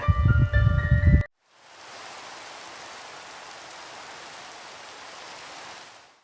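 Steady, even rain hiss fills the scene in the game Minecraft after a brief tonal jingle cuts off, a soft constant wash of falling rain with no voices.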